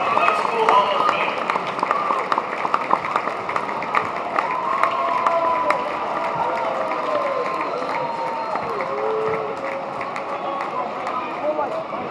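An audience in a high school gym applauds a Hall of Fame induction at a boys basketball game, dense clapping and crowd noise that stays loud throughout and slowly eases, with voices mixed in.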